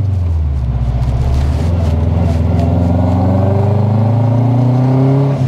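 Subaru Impreza GC8 with a 2500cc 500 HP Stage 3 engine revving loudly and close, the note climbing steadily through several seconds with a throaty, rising rasp.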